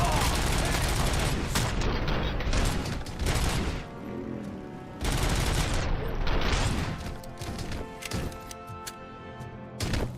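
Robocop shooting in a video game: heavy, sustained bursts of gunfire with crashing impacts, loud and dense, pausing briefly between volleys.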